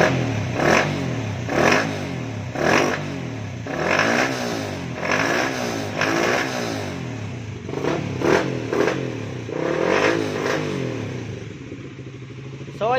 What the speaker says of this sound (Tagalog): so ganito yung tunog ng motor.